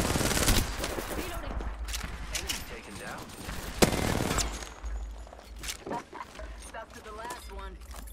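Gunfire from a video game with Arcstar grenades in play, rapid bursts of shots running through the clip alongside a sharp blast near the middle, mixed under constant excited talk from a player.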